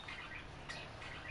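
Birds chirp in the Farming Simulator 22 game world, short faint tweets repeating over a steady background of ambient noise, with no talking.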